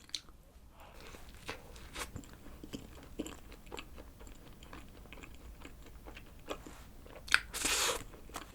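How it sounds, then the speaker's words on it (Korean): Crunchy bites and soft chewing of a Yonsei milk fresh cream bun from a CU convenience store, a series of close, quiet crackly chomps with a louder crunch near the end. "가장 기본인 이거 우유 생크림 요거부터 먹어볼게요"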